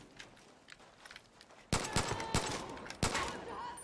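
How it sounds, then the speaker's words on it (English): A machine gun fires in the video game Far Cry New Dawn, short loud bursts of rapid shots breaking in after quieter background noise, close and harsh. "the machine gun's firing at you"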